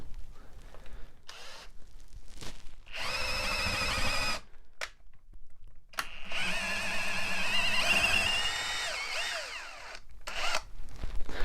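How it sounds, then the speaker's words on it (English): Electric drill fitted with a 3/8 inch bit whirring in bursts as it cleans old glue out of dowel holes in a loose wooden chair, close and fairly loud, with short pauses between runs and no talking. "take a 3/8 inch drill bit and run it backwards into the hole to get it to the bottom of the hole"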